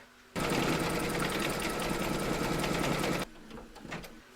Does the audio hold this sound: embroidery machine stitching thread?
yes